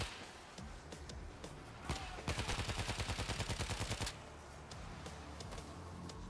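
Soldiers fire guns in the World War Z zombie video game: scattered single shots, then a dense rapid burst of automatic fire lasting about two seconds, followed by quieter background shooting.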